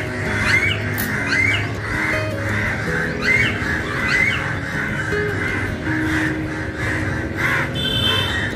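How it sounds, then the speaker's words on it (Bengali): A large gathering of crows cawing and squawking together, many overlapping harsh calls repeating loudly and close by over a constant chattering background din. "দারুণ কাকের বাজার একটা।"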